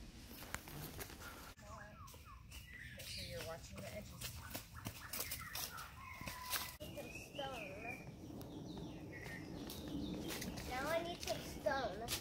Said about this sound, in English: do you hear the singing birds?